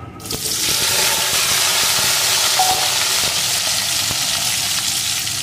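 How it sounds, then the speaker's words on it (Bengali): Cut potatoes fry in hot oil in a home kitchen, giving a loud, steady hiss and crackle that runs throughout, with occasional faint pops and no talking. "এখন এই তেলের ভিতরে টুকরো করে কেটে রাখা আলুগুলোকে দিয়ে দেব।"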